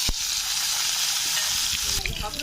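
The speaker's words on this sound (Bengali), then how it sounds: "এবার ওই ভাজা তেলেই আমরা আলুগুলোকে ভেজে নেব।" Potatoes frying in oil left from frying eggs, a dense close sizzling hiss with a sharp knock at the start and a few stirring clatters toward the end.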